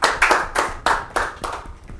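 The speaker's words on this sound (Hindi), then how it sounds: "एक बार जोरदार ताली हो जाएंगे।" Clapping at an interview-style stage event, heard as about seven sharp, rhythmic group claps in quick succession, loud and close, fading slightly in the final beats.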